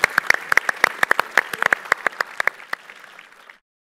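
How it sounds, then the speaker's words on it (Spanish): A small audience at the IAB Now 2018 media conference applauds a panel, sharp individual claps in a quick uneven patter that thins out and stops after a few seconds. "Aplauso nuevamente para todo el panel."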